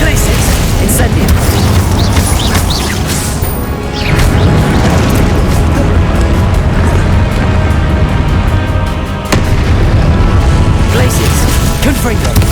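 Hogwarts Legacy combat spells, fire, explosive, disarming and ice casts, burst in a dense, unbroken barrage of loud booms and crashes, with a voice calling out over the din.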